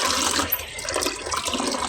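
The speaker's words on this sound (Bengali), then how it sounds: "কাঁকরোল আর আলু দুইটা ধুয়ে ভালো করে" Water splashes steadily as teasel gourd and potatoes are rinsed in a sink or basin, a continuous close wash with small bursts of swishing and no talking.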